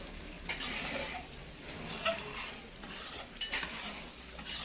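Spice paste for perkedel frying in pans at a village communal cooking tradition in Gresik, East Java: a soft continuous sizzle under repeated clinks and scrapes of a spatula against the pan, quiet and close.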